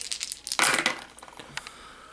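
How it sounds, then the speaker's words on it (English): Dice rolled during a game of the Elder Sign board game: a few light clicks, then a bright clattering burst as the dice tumble and settle on a hard surface, with small scattered taps after, close up and with no voices. "So let's go ahead and roll the dice."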